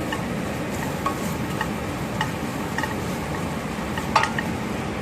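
Tomato stirred into chicken masala frying in a pan, a steady close sizzle with soft scraping and light clicks of the spoon against the pan, a louder knock near the end.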